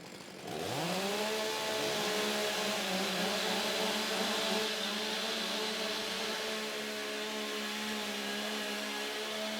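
A STIHL MS661 chainsaw starts and revs up during a timbersports competition, then holds a loud, steady high-pitched whine as it warms up, heard close and without talk.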